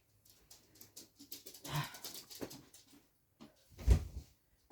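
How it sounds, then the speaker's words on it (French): A dog whimpers and whines indoors, wanting to go outside, with soft broken whines building to a louder whimper near the end, close and otherwise quiet. "mon chien veut sortir"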